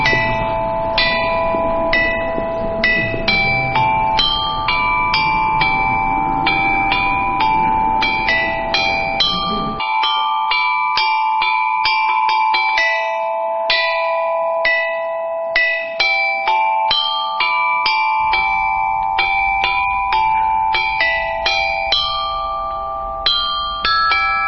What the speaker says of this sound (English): those bells are music instruments to play in this high time